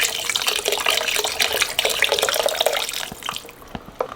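Chicken broth from a second box pours into a soup pot for chicken and rice soup, a steady splashing liquid stream running close and fairly loud for several seconds before trailing off.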